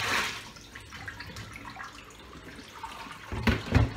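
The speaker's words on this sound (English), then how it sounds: "I'm going to soak the bowl. Lots of bearing and lots of hot water." Hot water runs from a tap into a bowl being filled to soak, a steady close splashing rush with a few louder sloshes near the end.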